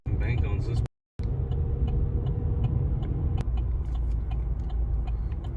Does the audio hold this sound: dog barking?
no